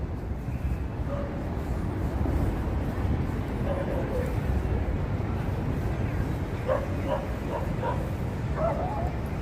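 Dogs at a New York City dog run bark and yip in scattered short bursts at a moderate distance over steady outdoor street noise, with a person talking nearby.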